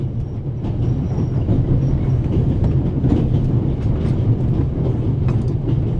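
A train runs on rails in the video game The Raven: Legacy of a Master Thief, a loud, continuous rumbling roll with faint rhythmic clacks throughout.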